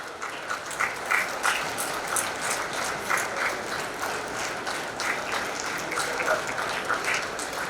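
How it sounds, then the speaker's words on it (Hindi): Audience at an awards ceremony clapping hard in a large hall, a continuous wash of many hands with crisp individual claps poking through, moderately distant and steady throughout. "जोरदार तालियों से"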